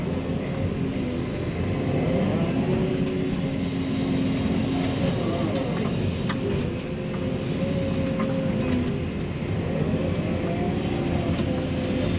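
Heavy earthmoving machine pushing dirt on a pond construction site, a continuous loud, low diesel engine drone with some rumbling and faint metallic clanks throughout.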